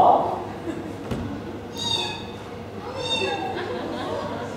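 A man imitates a cat with a couple of high, drawn-out meows, separated by a pause, amid murmuring voices in an indoor setting.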